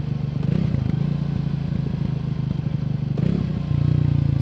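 A 2024 Triumph Speed 400 single-cylinder motorcycle runs on the road, a loud, close, steady engine drone with a brief rise in revs near the end, heard alone without talk.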